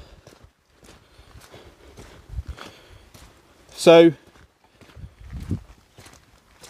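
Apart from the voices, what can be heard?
horse galloping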